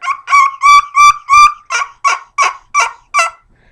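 A run of ten sharp, raspy turkey yelps from a friction nail call in quick succession, loud and close, the first few stronger and lower, the rest higher and clipped.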